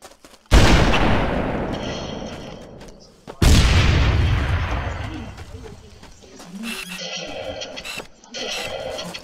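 Two loud, booming shotgun blasts in the Halo video game, each followed by a long decaying tail, with game sounds and voices talking afterward.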